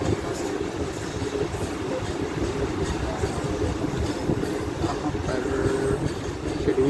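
Pakistan Railways' oldest express, the Khyber Mail, arrives at Shujabad station near Multan with a continuous heavy rumble and clatter of rolling carriages, loud and close throughout.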